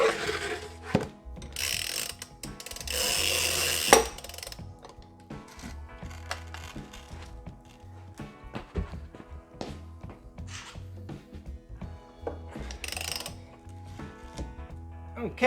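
A Porsche center lock wheel bolt is ratcheted loose about 90 degrees with a torque wrench, producing bursts of loud, close metallic ratchet clicks separated by pauses and scraping handling noises.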